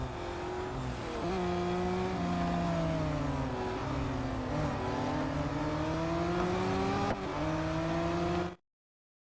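A race car's engine drones and shifts pitch steadily in the Real Racing 3 mobile racing game, with a continuous whine that rises and falls through gear changes before cutting to silence.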